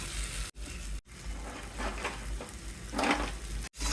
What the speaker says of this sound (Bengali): আলুর সাথে দু মিনিট কষিয়ে নেব আলুটা মশলাটার সাথে